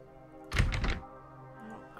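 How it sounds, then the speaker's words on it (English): Dull banging on a door in a horror point-and-click game: a short cluster of heavy thumps lasting about half a second, close and moderately loud, then a low ambient drone. "sounds like someone's banging at the door from inside"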